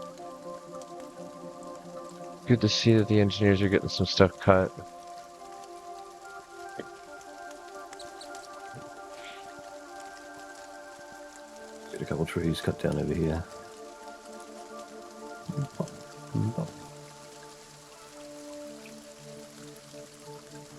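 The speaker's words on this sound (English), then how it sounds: "I love the sound of the rain in this." Steady rain falls in the video game Kingdom Two Crowns, a soft continuous patter under game music, broken by several bursts of someone talking.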